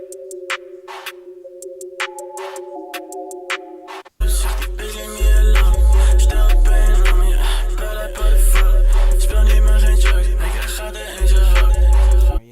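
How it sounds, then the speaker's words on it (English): Rap song played back: a sparse ticking intro of plucked tones gives way to a loud beat with heavy booming bass hits and dense layered instrumentation. "Let me show you the actual song by him so that y'all can hear it."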